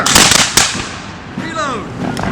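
Flintlock musket volley fired on command during a 17th–18th century drill, with sharp blasts near the start and around half a second, then a crackling tail and a shouted voice over the echo.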